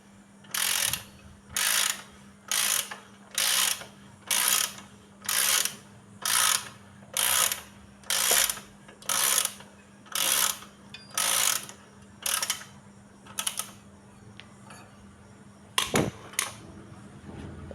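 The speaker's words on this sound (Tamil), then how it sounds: "இந்த ஸ்பேனர் நம்ம யூஸ் பண்ணி கழட்டிக்கிறோம்." A spanner works a tight 17 mm bolt loose on an XL 100 moped, producing a regular series of about fourteen ratcheting clicks in even strokes, close and fairly loud, ending with a few irregular metallic knocks.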